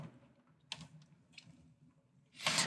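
Keystrokes on a computer keyboard, a few soft scattered taps followed by a louder clack of the Enter key at the end, close and alone in a quiet room.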